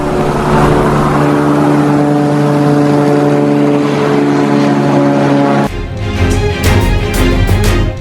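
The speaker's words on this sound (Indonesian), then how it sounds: "Warga merekam sebuah pesawat melintasi langit Israel." An aircraft passes across the sky over Israel with a loud, steady droning engine hum whose tone breaks off abruptly near the end into a rougher, rumbling roar.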